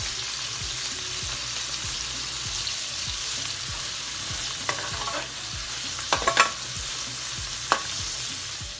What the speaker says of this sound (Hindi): प्याज डालेंगे, हल्का सा सौते करेंगे बस इसको।